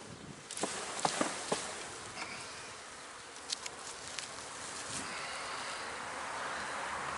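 A steady, dense honeybee buzz fills the air throughout, with a few sharp clicks and knocks near the start as the bees are shaken from a frame, and no voices.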